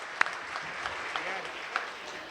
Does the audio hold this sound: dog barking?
no